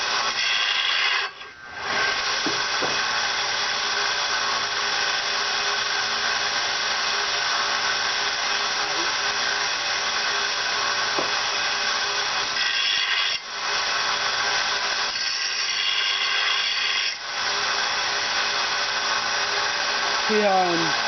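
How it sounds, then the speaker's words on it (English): A power sander grinding steadily along the edge of an axe being restored, a continuous loud whine broken by a few brief dips where the tool lifts off the metal. "See how I'm starting to sand it, and you want the edge to be continuous."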